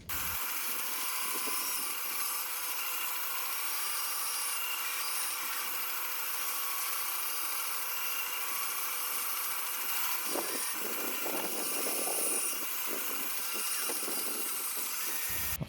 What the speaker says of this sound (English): I forgot how fluffy this basswood is to cut.